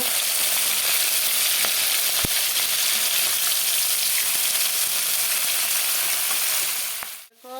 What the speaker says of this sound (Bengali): আলুগুলো লাল করে ভাজা হয়ে গেল